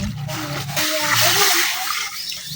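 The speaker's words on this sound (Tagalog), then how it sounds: "Lalagyan po natin ng tubig." Water splashes and gushes into a cooking pot for pork nilaga for a couple of seconds, a steady close pouring sound that swells in the middle.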